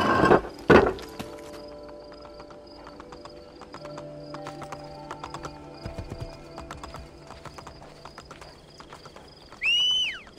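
Horse hooves clip-clopping in Assassin's Creed Brotherhood, a steady rhythmic trot with a loud whinny near the start, game music humming underneath and a brief rising neigh or swoosh near the end.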